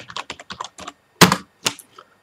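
A computer keyboard is typed on nearby, a quick run of light clicking keystrokes followed by two louder, sharper key presses, then quiet.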